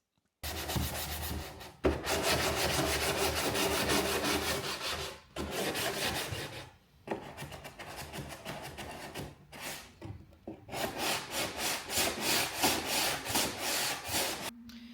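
Loud rhythmic sanding on a wooden mantelpiece, steady back-and-forth strokes in long bursts with brief pauses between, close up and with no talking.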